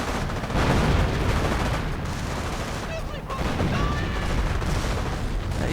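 Artillery fire in a World War II strategy video game, with dense rumbling booms and crackling battlefield gunfire that continue nonstop through the whole stretch.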